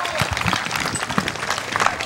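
Rodeo crowd at a regional rodeo cheering and applauding after a bronc ride, a steady wash of clapping and crowd noise throughout, with an announcer's voice over it.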